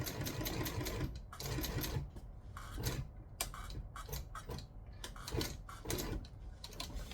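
A home sewing machine stitches, reverses and stitches again, producing a rapid rhythmic clatter of needle strokes in short bursts with brief pauses between runs, close and fairly quiet.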